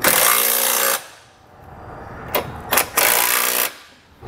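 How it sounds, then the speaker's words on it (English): Bolts on a Curt trailer hitch receiver under a 2020 Chrysler Voyager are driven with a 19 mm socket, heard as a loud close burst of rattling mechanical whirring followed by a few shorter spurts. "we can come back with either a 19 millimeter or 3/4 inch socket and snug it down."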